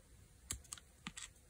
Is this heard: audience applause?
no